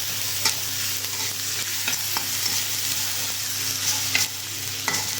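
Tomatoes frying in a home kitchen pan, a steady close sizzle with occasional scrapes and taps of a stirring spoon against the metal.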